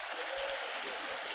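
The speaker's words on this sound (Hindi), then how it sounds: "तो आप सभी लोगों की तालियों के साथ उनका" An audience at a tobacco-free youth campaign event claps for the guests, a dense, steady round of applause heard throughout.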